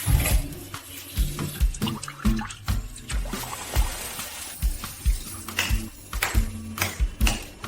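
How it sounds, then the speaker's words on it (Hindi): Bath water pours from a tap into a tub for a bath, a continuous splashing, gurgling stream heard close by with uneven surges, no voices over it. "मैंने फैसला किया खुद उसके लिए नहाने का पानी डालूं"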